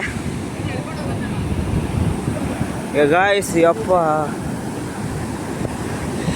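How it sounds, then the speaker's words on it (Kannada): Ocean waves wash continuously onto a beach with a low, broad roar, and wind buffets the microphone. People call out and talk briefly over the surf partway through. "ಈ ಅಲೆಗಳು ನಮ್ಮ ಕಾಲ ಹತ್ರ ಬಂದರೆ ಭಯ ಆಗೋಯ್ತದೆ ಗಾಯ್ಸ್ ನಮಗೆ"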